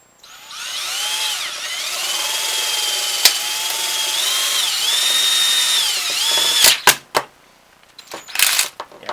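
A power drill with a 9/16 spade bit boring holes in a wooden SnapBow handle, loud and close: a sustained whining spin with pitch sags under load, then several short sharp bursts at the end.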